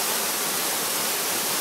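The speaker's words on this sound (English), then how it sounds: "Puerto Rico in El Yunque forest and Hunter's under the waterfall." Waterfall in El Yunque forest, Puerto Rico, a steady, dense roar of falling water that fills the whole clip without a break, loud and close, with no voices heard.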